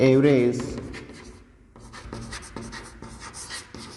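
Chalk or marker strokes on a classroom board during a Class 9 statistics lesson, short scratchy bursts in an irregular rhythm after a teacher's voice, close and moderately loud.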